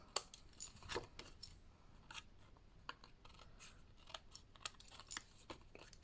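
Quiet, close snips and crisp cutting of scissors through paper circles, a series of short irregular cuts with small rustles between them.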